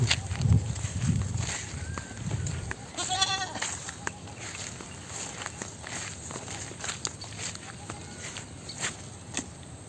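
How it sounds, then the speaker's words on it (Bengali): A goat bleats once in a wavering call in a rural village yard, amid footsteps and shuffling nearby, with people talking. "ওই যে ছাগল নিতে আসছে দাদু"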